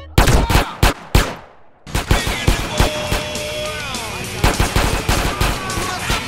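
Loud, rapid gunfire in the video game GTA San Andreas, with repeated sharp shots and bursts across the clip, a short lull, then continued firing amid clattering game effects.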